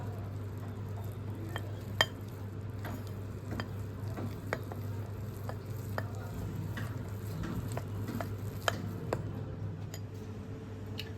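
Besan batter with turmeric and a little water being mixed by hand, a spoon tapping and scraping the bowl in sparse, uneven clicks over a steady low hum.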